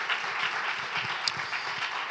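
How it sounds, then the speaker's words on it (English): An audience gives a round of applause at a celebration honoring Toni Morrison, steady broadband clapping sustained evenly across the moment with no talk over it. "can we also just give another huge round of applause to the Black women that came before me?"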